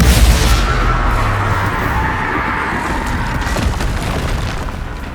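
Spell explosions in Hogwarts Legacy, a heavy booming blast at the start trailing into a long, loud rumbling roar with crackling debris and a few smaller impacts layered on top.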